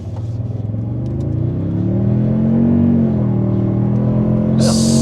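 A Toyota Tundra hybrid pickup accelerating hard, its engine drone rising steadily in pitch and loudness over several seconds, heard alone and close.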